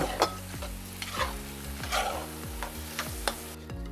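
A spoon scrapes and stirs through Georgian khortsiani stew in a pot, with repeated rhythmic strokes over a steady sizzling background.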